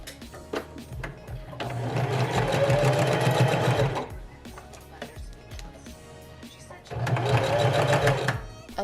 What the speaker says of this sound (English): I'm just going to start with sewing each of the corners down just a 1/4 inch. So hopefully my machine can handle it